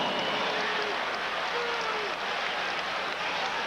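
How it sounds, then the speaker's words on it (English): A basketball arena crowd in Chicago roars and murmurs steadily around Michael Jordan on his return, a dense, continuous wash of cheering heard from a distance without pause. "Crowd oohing and eyeing every time Jordan touches the ball."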